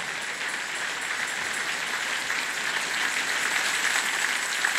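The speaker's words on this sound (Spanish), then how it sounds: "Dale un aplauso al Señor en esta hermosa mañana" A church congregation at a morning service claps steadily and loudly in praise, a thick, even wall of applause that holds without letting up.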